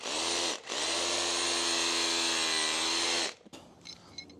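A Bosch hammer drill with a 7/8-inch bit bores loudly and steadily at close range for about three seconds after a brief start, then winds down and stops, leaving faint clicks and handling noise.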